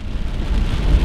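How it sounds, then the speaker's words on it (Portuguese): Rain falls during a drift session in a Toyota GT86, a loud continuous patter and rumble with a deep low roar underneath, no voices. "tá chovendo, né, galera?"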